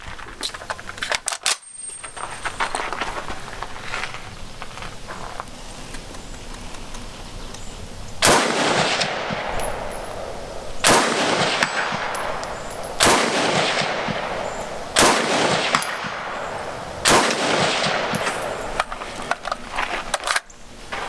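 Norinco Type 97 rifle fired at 200 yards: about five sharp, loud outdoor gunshots in a spaced rhythm, each with a rolling echo, preceded by quieter metallic handling and clicks.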